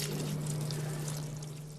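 Water poured steadily onto soil, a continuous close trickle and splash with a low steady hum running underneath for the whole stretch.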